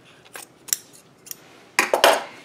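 Scissors snip off upholstery material on a wooden arm chair, giving a handful of close, crisp cuts. The cuts come spaced at first, then a louder cluster of snips follows.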